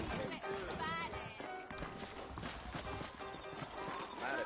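Horse hooves clip-clop while a horse neighs in a Red Dead Redemption western game scene, steady hoofbeats set under dense music, effects and characters talking throughout.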